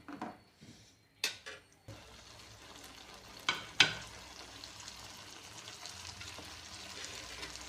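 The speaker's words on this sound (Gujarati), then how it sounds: "ચમચાની મદદથી થોડું મિક્સ કરી લઈએ." Onions cooking in oil in a pan over a low-to-medium gas flame make a steady close sizzle and frying hiss, with a few sharp spoon scrapes and clinks near the start as they are stirred.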